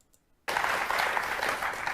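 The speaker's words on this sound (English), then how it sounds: "Why are you clapping?" After a short near-silence, a studio audience bursts into sustained applause, many hands clapping together in a dense, even roar that carries on to the end.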